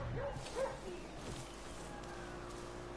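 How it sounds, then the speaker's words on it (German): A dog in Far Cry New Dawn gives a few short yips and barks early on, faint and distant beneath quiet game ambience, then only low background noise remains. "Ich höre ja schon der Hundeli-Bundeli."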